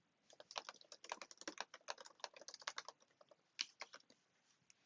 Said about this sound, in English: In Count, you can type text anywhere you want.